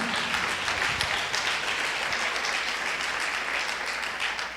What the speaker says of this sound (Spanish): ¿Cuánto dan ese fuerte aplauso al Señor?